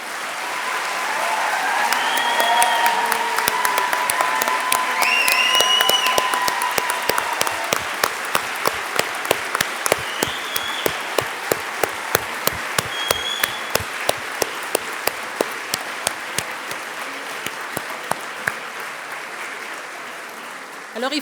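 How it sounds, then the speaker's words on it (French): Sustained crowd applause at a graduation ceremony fills the room, clapping steadily at first and then thinning into sparse, distinct claps toward the end, with brief talk mixed in. "Alors, oui, applaudissons-les tous."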